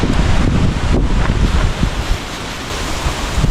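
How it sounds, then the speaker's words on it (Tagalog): Strong wind beside San Roque Dam roars and buffets the microphone in a continuous loud rush, with a surf-like churning underneath. "Grabe, lakas talaga ng hangin."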